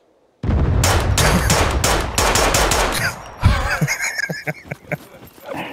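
Gunfire in the SCUM survival video game, including Desert Eagle pistol shots: a loud rapid burst of close shots lasting a few seconds, then scattered cracks and echoing reports with other game noises.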